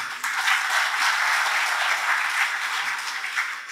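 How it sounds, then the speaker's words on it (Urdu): Student audience at a career counselling session in Larkana, Pakistan, breaking into loud, dense applause that holds steady for several seconds before starting to thin out at the end. "تو اس پر یقیناً آپ تمام کے لیے تالیاں ہونی چاہیے"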